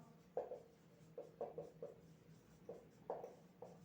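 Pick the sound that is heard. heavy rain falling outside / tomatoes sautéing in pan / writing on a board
writing on a board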